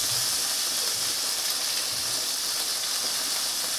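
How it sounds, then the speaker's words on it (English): Chicken thighs sear in a pan for a honey sriracha dish, giving a steady, loud, even hiss with no breaks. "So now we have our chicken thighs over here cooking."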